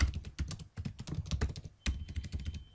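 Rapid clattering keystrokes on a computer keyboard, close and fairly loud, in uneven bursts with a brief pause near the middle and no voices.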